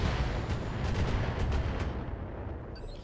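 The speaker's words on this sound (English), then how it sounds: "we can ping away with missiles" Salvos of missiles launching in the mech combat game BattleTech, a dense rumbling barrage with repeated sharp bursts layered over a continuous low roar, loud and close throughout.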